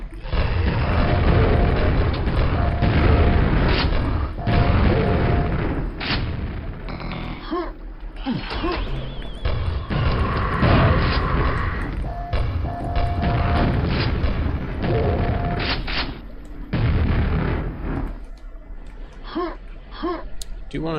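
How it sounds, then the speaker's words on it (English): Repeated heavy booms from grenade launcher explosions in the video game Quake, set in an underwater level, loud and dense alongside continuous in-game noise. "There's our grenade launcher."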